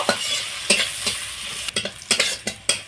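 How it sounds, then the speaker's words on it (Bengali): Chopped onion with slit green chillies fries in a pan under a steady, close sizzle. Sharp, irregular scrapes and clacks of a spatula stirring punctuate it several times. "আর দিয়ে দিচ্ছি একটা পেঁয়াজ কুচি পেঁয়াজটা খুব ভালো করে ভেজে নেব"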